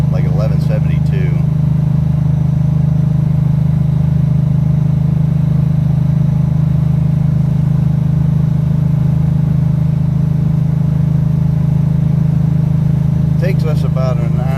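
A 1969 Pontiac drag car with an 11-second quarter-mile setup, loud exhaust and DOT tires, cruises on a public road, its deep steady engine drone and low exhaust rumble holding constant throughout with faint voices near the start and end.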